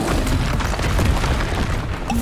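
An Expulso spell goes off in a Harry Potter–style video game battle as one short, heavy boom with a broad crashing rumble, loud and close, and no talk over it.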